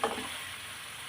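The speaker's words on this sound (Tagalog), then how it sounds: "gisa-gisa po natin ang ating karne. Ating pong baka." Beef sizzles as it sautés in a hot pan for bistek, a brief close crackle that settles into a steady hiss.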